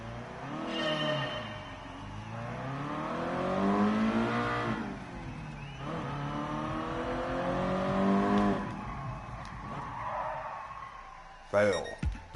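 Race car engine in Gran Turismo Sport during a braking test, revving up and down in long rising sweeps, then a sharp burst near the end, with a voice talking over it.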